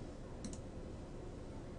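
Two quick faint clicks of a computer mouse near the middle, close and brief, over a steady low room hum.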